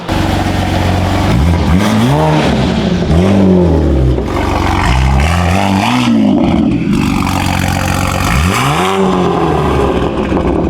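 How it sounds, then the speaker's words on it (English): A Brabus-tuned Mercedes G63 with carbon parts revs hard on a test drive, its engine note surging and falling in several loud, close sweeps over about ten seconds, with no talking. "We are doing the last and final test drive on the vehicle to make sure everything checks out."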